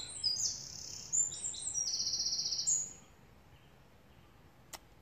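Birds sing high, repeated trilling phrases nearby in Hackney against a soft outdoor hush, then fall quiet; a faint click follows.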